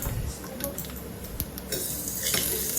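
Dry chillies, cinnamon, cloves, cardamom and cashews are roasted in a pan, with a short run of close stirring scrapes and faint sizzling.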